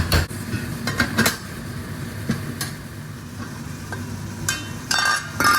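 Onions cooking in a covered pan, with a steady soft sizzle under repeated clattering scrapes and knocks of a spoon against the metal pan as they are stirred, close by with no talking.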